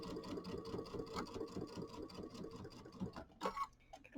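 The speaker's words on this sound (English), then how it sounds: "so we'll do our 1/4 inch seam along here." A sewing machine stitches a quarter inch seam on a small quilt, a steady fast mechanical whirring with a regular clatter, close and quiet, with a brief pause and a click near the end.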